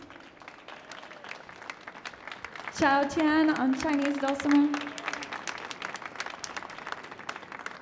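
Concert audience applauding the musicians on a stage: dense clapping continues beneath an announcer's voice, and a brief plucked string passage rises in the middle.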